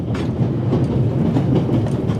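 A train runs on rails in The Raven video game, a steady rolling rumble with rhythmic clickety-clack from wheels over rail joints, heard close from inside a car, no talk.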